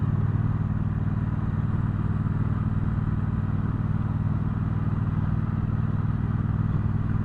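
A 2019 Triumph Speedmaster motorcycle riding along, its engine a steady low rumble with wind noise that holds even and loud for the whole stretch, no voices.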